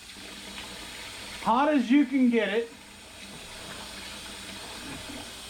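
Hot water runs steadily from a sink tap to rinse out a UNI foam air filter, giving a continuous hiss with a brief stretch of speech over it.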